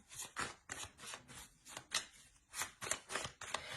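Tarot cards being drawn and laid out, a quick series of about a dozen crisp paper snaps and slides in close succession, faint and alone.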